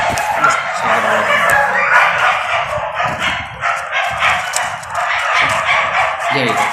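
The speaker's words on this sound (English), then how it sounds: "Please excuse me for these dogs again." Several dogs bark, yip and whimper indoors, in repeated close bursts heard over a steady background.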